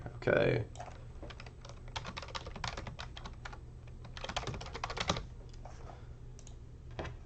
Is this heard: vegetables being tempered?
no